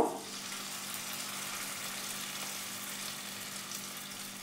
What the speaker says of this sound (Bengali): এবারে আঁচটাকে আমি একদম সিমে করে দিয়ে পকোড়াগুলো ছাড়ব